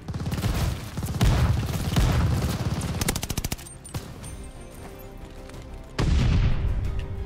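Rapid bursts of automatic fire from the Automaton rifle in Call of Duty: Vanguard, loud and close, with repeated volleys, a brief lull, then another heavy burst near the end.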